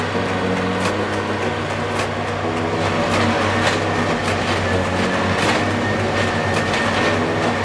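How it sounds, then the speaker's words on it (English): A railroad tamper machine vibrating ballast rock beneath railroad ties with hydraulic jacks: continuous heavy mechanical rumble with a steady low drone and repeated bursts of rattling, close by. "Railroad tampers utilize hydraulic jacks to tamp the ballast by vigorously vibrating the rock material beneath the railroad ties"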